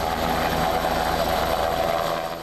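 An air ambulance helicopter called to a crash where a motorcyclist was thrown into a ditch near Treviso gives a loud, steady rotor and engine drone that holds for the whole stretch, easing off slightly at the end.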